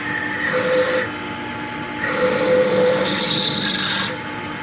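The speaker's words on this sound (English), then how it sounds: "Super crappy 3/8 drill, that'll work" A harsh, grinding 3/8 drill bite rasps through material on a 1969 GMC in two sustained bursts separated by a short pause, loud and close.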